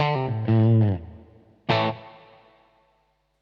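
Electric guitar through a DSM & Humboldt Dumblifier overdrive pedal using the plate reverb: a couple of sustained overdriven chords, then a sharp strum whose bright, smooth tail fades out over a second or so.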